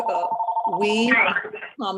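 A phone rings in a repeating electronic pattern near the microphone at a county planning commission meeting, then gives way to a brief burst of other noise and tones.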